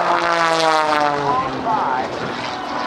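A propeller aerobatic airplane dives at a Naval Air Station Oceana airshow in 2008, its engine droning loud with a shifting pitch, heard under a commentator's ongoing talk.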